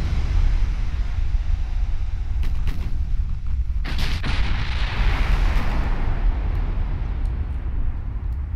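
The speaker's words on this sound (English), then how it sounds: "and fire a full salvo." An Ultimate Admiral Dreadnoughts battleship fires a full gun salvo. Heavy rolling booms overlap into a sustained rumble, with sharper cracks near four seconds, loud and close, with no speech.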